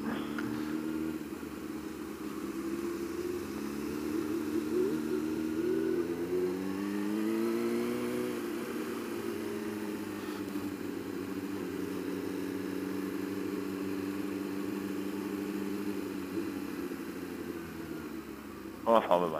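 A car drives along with a steady mid-pitched engine hum, rising briefly as it accelerates, heard from inside the cabin while people chat over it.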